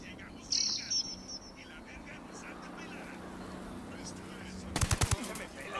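A short rapid burst of automatic gunfire near the end, from the tactical shooter Ghost Recon Wildlands, after a stretch of quieter in-game ambience with faint chirpy sounds.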